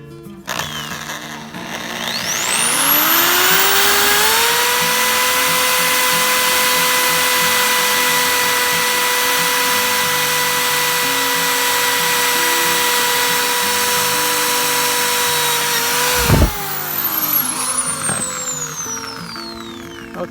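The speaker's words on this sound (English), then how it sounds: "just drill the hole." A power drill bores a hole through an aluminum stair railing bracket, a steady high-pitched whine that winds up, holds for about thirteen seconds and then stops abruptly, followed by faint handling clatter.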